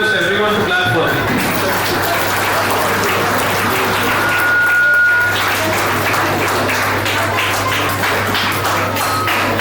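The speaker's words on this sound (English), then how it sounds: "I request everyone to clap for him." At a Rotary Club prize distribution in Rajahmundry, an audience claps steadily for a prize winner, with a continuous patter of hands under nearby talk and a low electrical hum.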